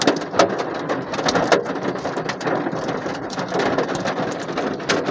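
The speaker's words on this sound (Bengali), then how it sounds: "সৌদি আরবে শিলা বৃষ্টি হইতেছে, আমার গাড়ির উপরে প্রচুর আওয়াজ" Hail pelts a car roof in Riyadh, heard from inside the car as a dense, continuous rattling patter with sharper individual hits scattered throughout, loud and close.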